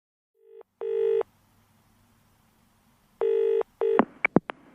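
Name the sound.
telephone number being dialed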